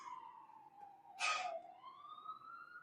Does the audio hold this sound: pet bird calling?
no